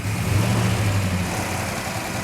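Idling 1967 Hemi GTX engine, a steady low rumble with a faint ongoing mechanical rattle from its mechanical rockers, held evenly close by throughout with no voices.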